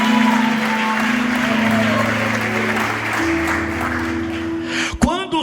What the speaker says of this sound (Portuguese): Levante a mão e aplaude a Ele, a Jesus.